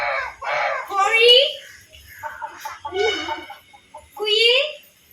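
A child imitates a chicken in a string of short and stretched clucking cries, near and fairly loud, with brief pauses between them.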